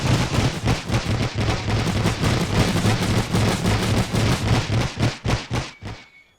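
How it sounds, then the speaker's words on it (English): Dragoons fire in The Great War strategy game: a dense, continuous crackle of many musket-like shots overlapping for several seconds, loud and close, thinning to a few scattered reports before fading out. "Our dragoons are firing."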